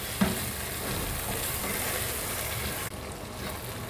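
Large chicken pieces frying with tikka masala in a pot for haleem, a loud continuous sizzle with stirring, a brief bump early on and a sudden drop in intensity near the end.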